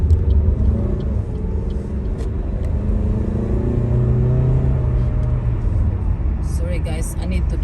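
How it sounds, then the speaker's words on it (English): A car drives fast along busy Canning Highway in Applecross, giving a steady loud road rumble and engine drone from inside the vehicle, with the faint whoosh of other traffic near the end. "I need to drive that fast because this is quite busy"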